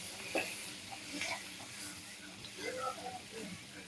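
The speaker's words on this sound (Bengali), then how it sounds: "তার জন্য আগে আমি চিংড়িটা ভেজে নেব তেলে ফেলে।" Shrimp seasoned with salt, turmeric and chili fry in oil for a Bengali shrimp curry, giving a quiet, continuous sizzle with occasional stirring clinks.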